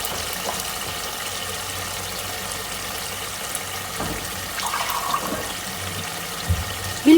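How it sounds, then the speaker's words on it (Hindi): Water poured into a pan of egg chana being sautéed, a steady splashing gush that runs for several seconds at moderate level, with a brief louder bubbling surge near the end. "अब हम लोग इसके अंदर थोड़ा सा पानी ऐड करेंगे।"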